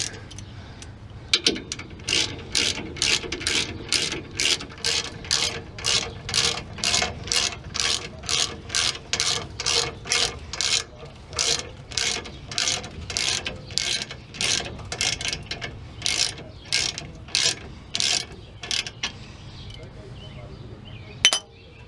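Ratchet tightening a puller to free stuck brake rotors, a long run of rapid, regular metallic clicks in repeated strokes, close and loud, with brief pauses between pulls.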